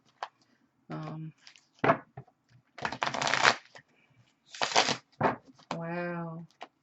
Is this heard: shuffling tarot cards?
yes